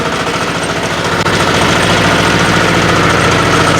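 A walk-behind tractor engine runs close by, loud and steady, with a rapid rhythmic chugging throughout.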